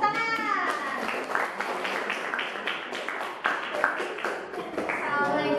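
Classroom of students clapping together in a short burst of scattered hand claps, with children's voices chattering over and around the applause.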